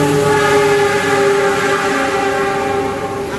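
Jayakarta long-distance passenger train on the line from Lempuyangan toward Jombang, a loud sustained horn tone over the steady rumble of the rolling carriages, close and continuous throughout.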